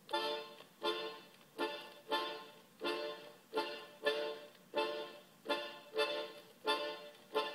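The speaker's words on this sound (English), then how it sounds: "There's also a highlight rhythm called the 3-3-2, which sounds like this." A 3-3-2 highlight rhythm played by an orchestra, repeated accented chords in an uneven long-long-short grouping, each hit swelling and decaying cleanly, moderately loud and with no voices.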